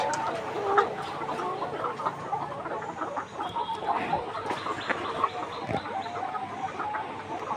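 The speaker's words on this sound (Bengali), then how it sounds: "আগের তুলনায় মুরগি খাবার একটু বেশি খাচ্ছে" A flock of 147-day-old layer hens clucks continuously in a poultry shed, overlapping murmuring calls filling the space at a steady, moderate level with no talk over them.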